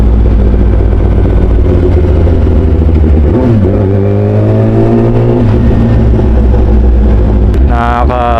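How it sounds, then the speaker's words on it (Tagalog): A motorcycle on the road, its engine loud and close, revving and shifting pitch as it rides along, with a brief rise in wind and engine noise near the end. "Napakasimple lang magmotor pero ang sarap."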